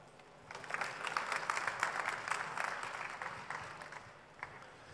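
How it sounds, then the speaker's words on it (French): Audience at a launch talk applauds to welcome guests on stage, steady crowd clapping that swells and fades, heard from some distance at modest loudness. "Sous vos applaudissements"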